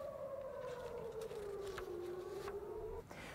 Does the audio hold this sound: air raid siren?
yes